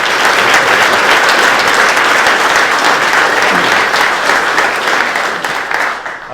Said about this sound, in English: the current owners of Sycamore Hills need a round of applause for providing